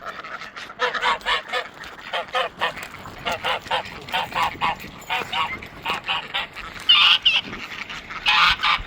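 A flock of ducks and geese being herded out toward a farm pond, honking and quacking in a steady, overlapping chorus of repeated calls that stay close and loud throughout.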